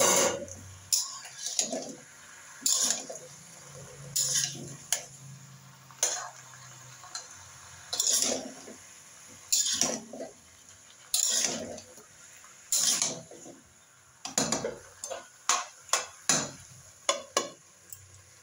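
Crab and prawns fry and get stirred in a pan for a pumpkin curry, with repeated scraping strokes and soft sizzling in an uneven rhythm that quickens toward the end, close and moderately quiet.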